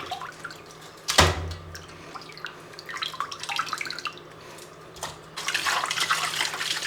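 Raw beef for Kerala-style beef mappas is rinsed in water: running-tap splashes and drips with sloshing, one sharp knock near the start, and a fuller gush of water toward the end.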